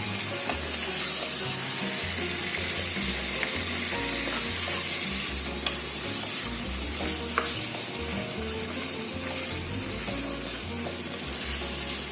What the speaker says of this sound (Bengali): ভালো করে মশলার সাথে মিশিয়ে দেবো।